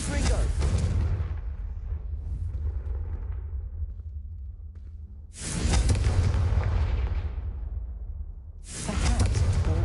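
Heavy booming blasts from the Confringo spell in the video game Hogwarts Legacy, three loud explosions with long rumbling decays, the second and third arriving a few seconds apart.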